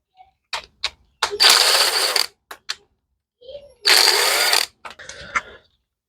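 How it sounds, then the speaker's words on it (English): Screws are worked loose from the bottom of a Briggs and Stratton carburetor bowl on a Troy-Bilt lawnmower, heard as close clicks and ratcheting bursts separated by quiet pauses. "Remove the 2 screws on the bottom, holding the bowl on."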